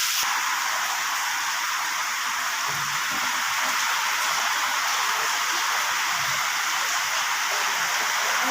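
Heavy rain pours down with wind, a dense, unbroken rushing roar like a waterfall that stays loud and even from start to finish, with no one speaking.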